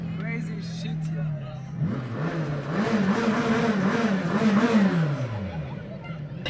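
Koenigsegg CC8S hypercar driving by on a coastal road: a deep engine note climbs and falls through gear changes as it passes close, loud over crowd chatter and background noise.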